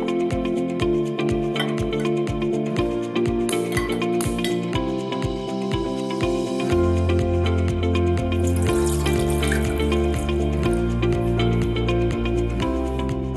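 Milk poured steadily into a pot for heating on a home stove, a continuous watery pouring stream heard over a backdrop of music, with faint clinks near the end.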